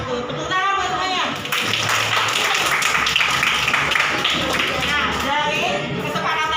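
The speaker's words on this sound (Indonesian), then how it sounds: "Tepuk tangan buat semuanya" Classroom applause from a group of students and a teacher, steady dense clapping that fills the room for several seconds, with children's voices chattering underneath.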